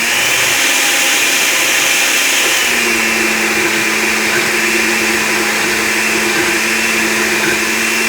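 A mixer grinder whirs loudly and steadily at close range as it grinds ginger garlic paste, its motor pitch dropping slightly partway through and holding a constant drone.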